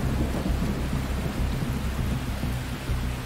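Heavy rain pours down steadily during a thunderstorm in south Louisiana flooding, with low thunder rumbling continuously beneath the dense, close hiss of falling water and no voices.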